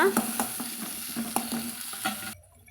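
Chopped tomatoes and small shallots sautéing in a pan for a peanut side dish, a steady soft sizzle broken by repeated spoon scrapes and stirs, close and moderately loud, cutting off abruptly near the end.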